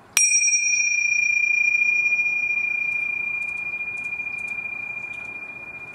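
A pair of tingsha meditation cymbals struck once, giving a bright, sharp ping that settles into a pure, high ringing tone and slowly fades over several seconds, heard alone in a quiet room.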